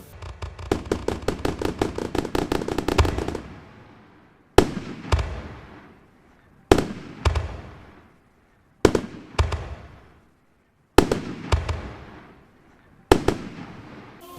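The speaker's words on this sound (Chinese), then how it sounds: "晚会现场，嘛将释放长达3分钟的烟火秀， 总共将近3000发的烟火" Fireworks at a New Year's Eve party in Tainan open with a dense, rapid crackling volley, then give way to five separate loud bursts, each fading slowly into a quiet gap.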